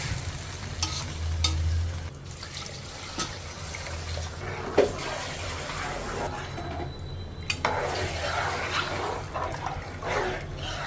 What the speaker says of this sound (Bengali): এখন আমি এটা পানি দিয়ে দেবো।